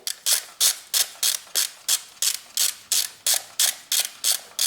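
Ratchet clicking in quick, regular bursts while a bolt is backed out on a 2005–2012 BMW 3 Series engine, roughly a dozen sharp strokes evenly spaced, close and alone with no talk.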